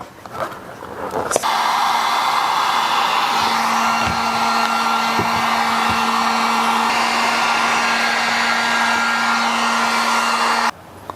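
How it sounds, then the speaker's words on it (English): Heat gun blowing hot air onto a homemade hitch cover for a Subaru Ascent, a loud steady whooshing whine that switches on abruptly, runs about nine seconds, then cuts off. "I'm going to go back and hit it with the heat gun"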